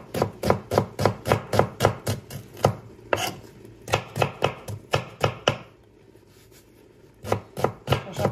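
Knife chopping onions on a board, a rapid run of sharp, close thuds in steady rhythm, pausing for about a second and a half before resuming; no talking.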